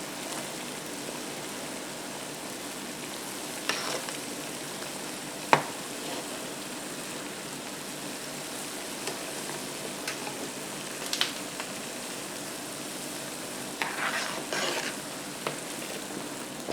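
Grease melts in a pot with a steady, soft sizzle and crackle, broken by occasional scraping clicks as it is stirred. It stays quiet and continuous, with no voices.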